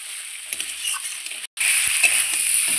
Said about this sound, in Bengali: আর ঢাকা দেবো না, আমি এইভাবেই নেড়ে নেব।